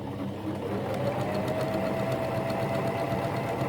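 A Janome FD206 or RE1306 sewing machine running a short straight stitch through fabric, a fast, even, continuous mechanical whir with rapid needle clatter, close and steady throughout.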